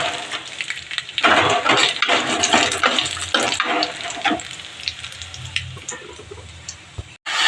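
Moong dal hits hot mustard oil, where spices are already crackling, and produces a burst of hissing, spluttering sizzle that surges for a few seconds and then tapers into a softer, uneven fizz with a sharp knock near the end.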